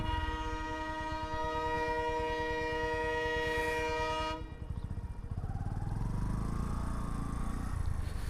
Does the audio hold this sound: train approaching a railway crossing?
yes